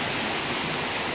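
Stream water pours into a small 20 cm plastic pipe inside an underground culvert of the Sapfous stream, a dense, steady rushing roar filling the whole short stretch with no voices.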